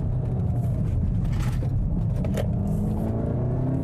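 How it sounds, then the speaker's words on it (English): A Cupra Leon station wagon with all-wheel drive and adaptive chassis control runs on a racetrack, its engine a steady, loud rumble with road noise throughout, no talk. "Driving the Cupra on a racetrack is a lot of fun."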